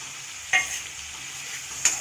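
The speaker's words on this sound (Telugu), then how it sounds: "ఉల్లిపాయలు, టమాటాలు కాస్త చింతపండు కూడా వేసి వాడ్చేస్తే, ఉప్పు అన్నీ వేసి వాడ్చేసుకోండి." Onions, tomatoes and tamarind sauté in a pan under a steady soft sizzle, with two quick scraping stirs about a second apart, close and fairly quiet, with no talking.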